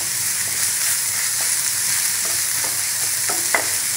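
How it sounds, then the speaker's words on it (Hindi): Apple pieces with mawa (khoa) roasting in a pan, giving a steady close sizzle with occasional spoon stirs and scrapes, no talking. "सेब को यहाँ पे तीन से चार मिनट हमें भून लेना है"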